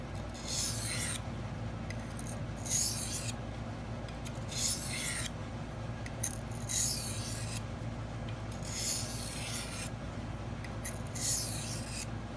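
A knife blade is sharpened on the fine side of a Crystolon stone, producing close, rhythmic gritty scraping strokes in short bursts over a low steady background hum.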